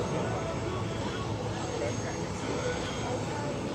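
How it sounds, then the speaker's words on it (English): A C-17 Globemaster III jet transport circles slowly over the airfield at EAA AirVenture 2025, its engines a steady, fairly faint broadband roar in the distance. "The C-17 will now maneuver for a circle over the airfield, showing its ability to fly at slow speeds"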